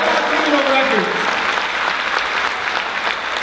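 An audience at a criminal justice assembly applauds in a dense, steady wash of clapping that fades slightly, with a speaker's voice heard briefly over it.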